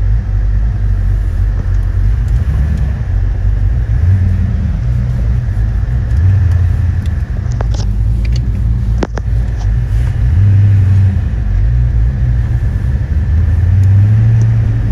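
A Foxbody Ford Mustang, its power steering reportedly low, idles and rumbles steadily as it backs up and pulls away, the engine note loud and close and rising slightly in places, with no talk over it.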